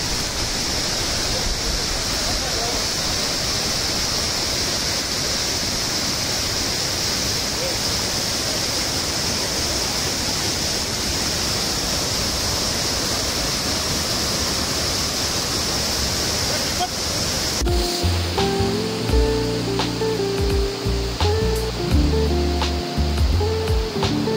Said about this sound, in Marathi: धबधब्याचा आनंद घेण्यासाठी